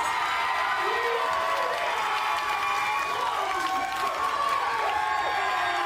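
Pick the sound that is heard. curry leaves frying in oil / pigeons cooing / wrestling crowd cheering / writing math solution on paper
wrestling crowd cheering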